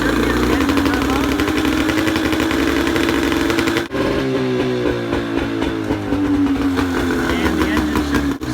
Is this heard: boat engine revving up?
yes